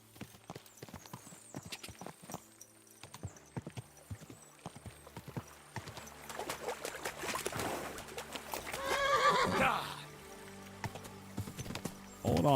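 A horse in Kingdom Come: Deliverance 2 trots with rhythmic clip-clopping hooves that build into a faster, busier gallop, then a short whinny near the end, close and clear, no voices.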